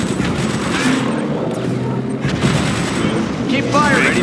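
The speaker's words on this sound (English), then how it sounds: "Keep firing." Units in Command & Conquer 3: Kane's Wrath trade steady gunfire in a busy battle mix: a constant rattle of shots under game effects, with faint voices in the background.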